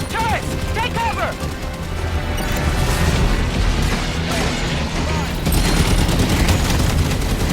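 Turret fire in the Halo 5 video game rattles in rapid bursts and booms amid battle noise, with character voices shouting over the steady barrage.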